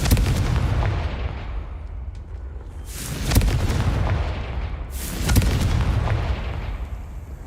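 Confringo blasting spell explosions in the video game Hogwarts Legacy, three heavy booming blasts spaced a couple of seconds apart, each with a sharp crack and a rumbling tail, loud and up close.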